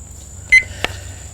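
A kitchen timer for a wood-fired pizza oven gives one short, bright electronic beep and then a soft click, over a faint steady hum.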